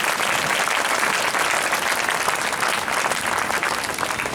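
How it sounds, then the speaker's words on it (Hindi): Loud, sustained applause from a church congregation during a Christmas sermon, a dense steady wash of clapping that holds for several seconds without a break. "जोरदार ताली प्रभु यीशु की"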